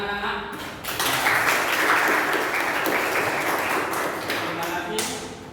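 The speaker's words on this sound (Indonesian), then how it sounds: "Tepuk tangan anak-anak." Children in a classroom clap together in a sustained burst of brisk applause lasting several seconds, fairly close and even.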